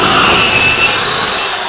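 A small, inexpensive alloy-blade metal cutting saw slices through large steel stock, giving a loud, continuous harsh grinding rasp that eases slightly toward the end, with no talking.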